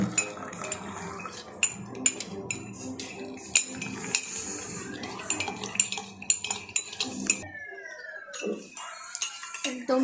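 A metal spoon stirring milk tea in a cup, with repeated sharp clinks and scraping taps in uneven rhythm, close by, followed by a brief quieter pause and a few final light chinks.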